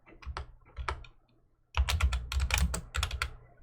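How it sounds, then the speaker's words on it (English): Close, soft typing on a computer keyboard comes in irregular bursts of rapid key clicks, broken by a brief pause before a denser flurry. "Sorry for the typing."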